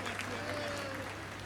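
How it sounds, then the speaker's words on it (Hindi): Applause greeting a speaker at an election rally, a steady wash of clapping that holds at an even level throughout, with a hum running underneath. "जोरदार तालियों से स्वागत करें।"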